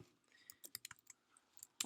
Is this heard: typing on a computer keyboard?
yes